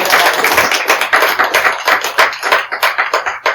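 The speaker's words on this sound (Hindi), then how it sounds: "अगर आप समझ रहे तो ताली बजाकर खुदा को धन्यवाद दें।" A church congregation at a Palm Sunday service claps loudly in a steady, rhythmic beat to thank God, many hands together, close and continuous with no voices over it.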